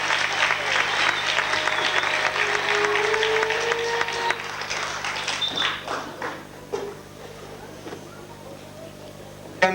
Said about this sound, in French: pardonnez-moi d'interrompre vos applaudissements